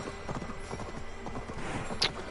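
Horse hooves clopping in Assassin's Creed Valhalla, a steady trotting rhythm close up with no talking, ending in a brief sharp high click.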